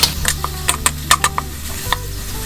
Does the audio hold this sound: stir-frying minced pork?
yes